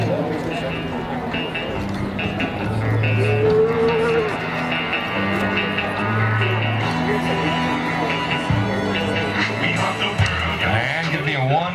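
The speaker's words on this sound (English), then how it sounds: "One random calf loping around down here." A calf moos at a ranch rodeo during a team branding event, with long, loud lowing calls carrying over steady arena background and an announcer's voice talking throughout.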